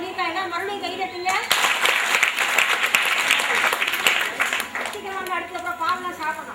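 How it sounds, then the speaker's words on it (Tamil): An audience claps together in a burst of applause lasting a few seconds, framed by a voice speaking before and after. "மறுபடியும் கைதட்டுங்க"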